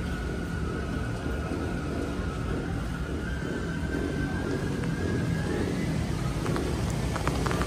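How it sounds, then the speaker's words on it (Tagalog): Heavy rain pours onto a flooded street in Manila, giving a dense, unbroken roar of water that stays loud and even throughout, with a faint passing vehicle tone underneath. "Ayan, grabe, bumuhos na naman yung malakas na ulan."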